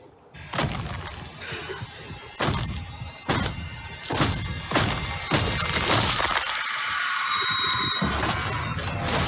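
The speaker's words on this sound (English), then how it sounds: "actually smacking a lump of meat with, a sledgehammer or something like that to get that sound effect" Several heavy, wet smacking impacts, like a sledgehammer hitting a lump of meat, land at irregular intervals, each a sharp crunching thud, layered over a rising noisy crash that sustains toward the end.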